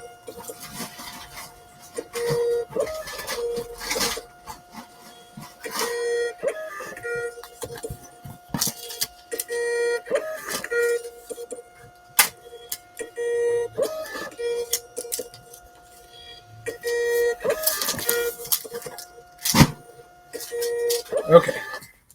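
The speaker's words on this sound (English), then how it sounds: "once these labels finish printing, and you don't have to listen to me talk over the noise of the printer" A label printer runs through a batch of shipping labels, its mechanism chattering and whirring in bursts of stop-start feeding across the whole stretch, loud and close, with a steady electronic hum underneath.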